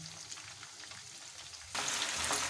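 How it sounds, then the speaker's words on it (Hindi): Chicken lollipop wings frying in oil over low heat, a steady soft sizzle that jumps abruptly louder partway through as the pieces are turned, with no voices. "तो कोशिश करें कि हल्की आंच पे इसको फ्राई करें।"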